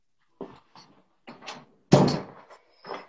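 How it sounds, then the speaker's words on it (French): A door is pushed shut indoors with a few soft knocks and shuffles, then one louder closing thud, followed by a faint creak and a final light bump. "je fermais un peu la porte parce que il y avait le bruit là-bas"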